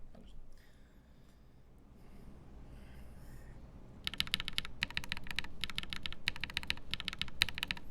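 Bursts of rapid typing on a modded mechanical computer keyboard, clicky keystrokes clustered in quick runs over the second half, close and fairly loud, after a quieter stretch of faint room noise.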